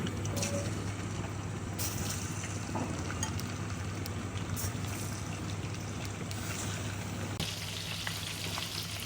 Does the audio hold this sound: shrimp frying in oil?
yes